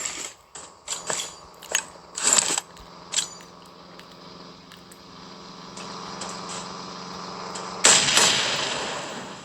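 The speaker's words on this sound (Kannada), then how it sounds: "Bomb ಹಾಕಿಟ್ಟು direct blast." Bomb blasts in a video game, a burst of sharp explosive cracks and mechanical clatter followed by a long rumbling roar and another heavy boom near the end, with no talking.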